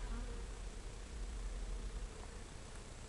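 Honeybees robbing a hive while guard bees hold the entrance make a faint, steady buzzing hum, dense and continuous, with no voices over it.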